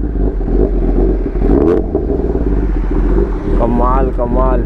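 A Kawasaki ZX10RR superbike engine idles with a loud, close, throbbing rumble, rising in a few short revs, while someone talks over it for most of the span.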